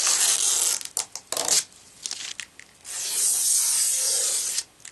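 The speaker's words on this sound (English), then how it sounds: "let me pull the plastic off of the bezel here" Protective plastic film is peeled off the glossy bezel of an Insignia 19-inch LED TV. Close, hissing rips come in short bursts, followed by one longer continuous pull.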